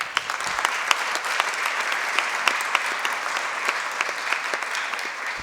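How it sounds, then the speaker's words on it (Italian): Audience at an art exhibition opening applauding the organizers, a full, continuous round of many clapping hands with sharp individual claps standing out, steady for several seconds. "E le ringrazio e vi chiedo un applauso per loro"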